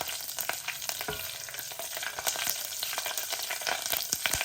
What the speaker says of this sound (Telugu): ఆ తాలింపు ఆవాలు చిట్పట్టలు మన కరివేపాకు చిట్పట్టలు